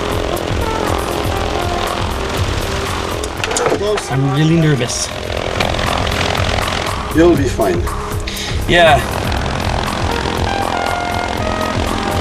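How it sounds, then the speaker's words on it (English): A propeller tow plane's engine drones steadily as it prepares to tow a glider at a soaring centre on Vancouver Island, staying loud and constant throughout while people speak briefly over it. "we are hooking up to our plane that is towing us"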